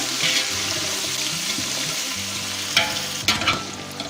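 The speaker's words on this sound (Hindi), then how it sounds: "आलूओं को अच्छी तरह फ्राई करेंगे।" Potatoes fry in hot oil for a restaurant-style vegetable biryani, giving a steady, close sizzle with stirring clinks and scrapes that grow more prominent toward the end.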